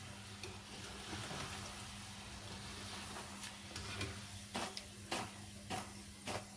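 Namak pare dough strips frying in hot oil, a soft steady sizzle throughout with a few light clinks and stirring scrapes toward the end.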